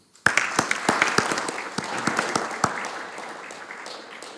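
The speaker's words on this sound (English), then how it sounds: "je demande aux membres de l'Académie de l'accueillir avec leur applaudissement" Members of an academy applaud at a formal plenary session, a short round of separate sharp claps that starts abruptly and thins out over a few seconds, with no talking.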